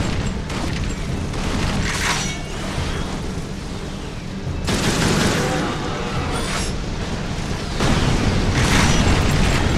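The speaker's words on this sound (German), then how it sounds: "Überall explodiert und geht ab und nochmal was hoch." Continuous rumbling explosions and booms in the PS3 game Resistance 2, loud and dense, with several bursts swelling over a constant roar of chaotic game action.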